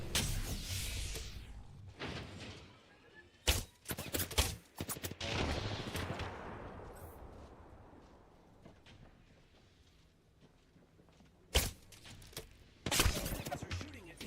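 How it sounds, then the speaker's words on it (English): Video game gunfire in a fast online match, sharp bursts of shots clustered near the start, around four seconds and again near twelve to thirteen seconds, with quieter game ambience between. "Guys are shooting at me."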